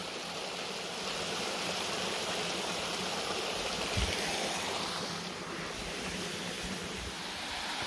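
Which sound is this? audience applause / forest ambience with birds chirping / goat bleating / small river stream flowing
small river stream flowing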